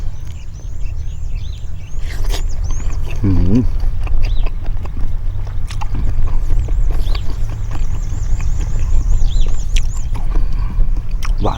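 A tractor engine runs close by in rural farmland, a loud, steady low rumble that continues throughout with faint scattered sounds on top.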